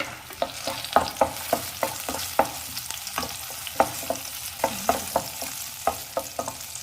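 Onions with green chilies fry in a pan for a chili chutney, a soft sizzle broken by a run of sharp spoon clacks and stirring scrapes at an uneven pace, close and without talk.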